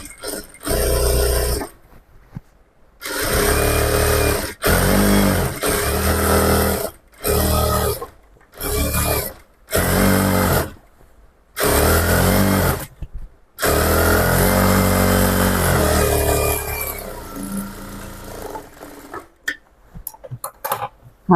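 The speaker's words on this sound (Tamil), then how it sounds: "இதை இப்போ திரும்ப இன்னொரு தையல் போட்டுக்கலாம்." Sewing machine stitching trousers, running in repeated bursts of a few seconds each with short silent pauses between, close and steady, with quieter handling near the end.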